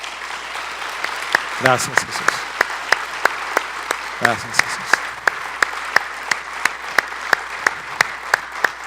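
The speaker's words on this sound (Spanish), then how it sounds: "Dale un aplauso al Señor por eso." A church congregation applauds, its steady clapping joined by a strong regular near beat of hand claps while a voice speaks over it twice.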